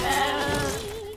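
A single sheep bleats close by in a video game, one loud wavering cry that fades slightly toward the end, with no talk.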